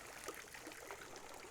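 Water trickling and draining out of the risers at the bottom of a lifted in-pool ledge lounger chair, a faint, steady stream with soft gurgles and no talk.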